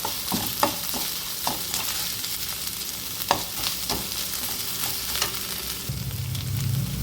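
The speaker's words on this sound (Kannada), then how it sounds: "ಚೆನ್ನಾಗಿ ಫ್ರೈ ಆಗಿದೆ." Ginger garlic paste fries in a pan for chicken gravy, with a continuous close sizzle broken by repeated scraping clicks of a spoon stirring.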